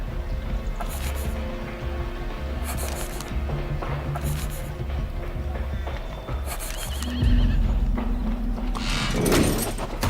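A horse in the Sherlock Holmes: The Devil's Daughter video game whinnies repeatedly in loud bursts over steady clip-clopping hooves, with a heavier rumble building near the end.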